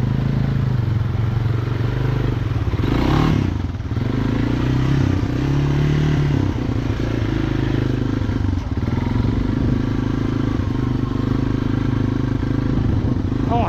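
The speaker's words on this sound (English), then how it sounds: "I don't want to sink my four-wheeler again." A four-wheeler ploughs through deep, mucky swamp water, its engine a steady low drone with sloshing and clatter, close and loud throughout, with a faint muffled voice underneath.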